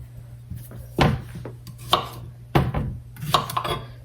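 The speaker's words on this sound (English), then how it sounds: "Cut the ends off" A knife chops the ends off small zucchini on a cutting board, giving four or five sharp, separate thunks against the wood over a low steady hum, with no talking.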